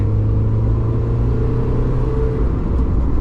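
Car overtaking, heard from inside a Mazda MX5 on the road, a loud steady engine rumble and whir with rising revs, close and continuous with no talking.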